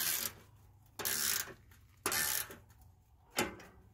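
A bolt joint on a stack pipe support for a backyard evaporator is tightened with a ratchet, giving four close bursts of ratcheting clicks with short pauses between them.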